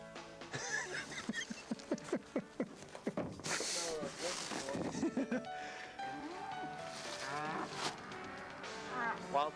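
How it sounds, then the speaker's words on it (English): Several cows moo loudly and repeatedly nearby, their calls overlapping, with some background voices and movement. "Wild invasion by cows."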